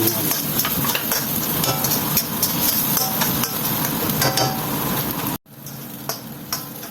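Garlic sautéing in a pan for cream noodles sizzles steadily and close, with a few stirring clicks. The frying cuts off sharply near the end and a quieter hiss continues after.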